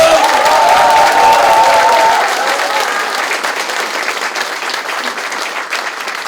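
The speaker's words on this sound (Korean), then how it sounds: "김종인 대표와 이종걸 대표에게 큰 박수 보내주시기 바랍니다." A large crowd at a Korean election campaign office opening applauds loudly, a full, even roar of clapping that gradually thins and softens over several seconds.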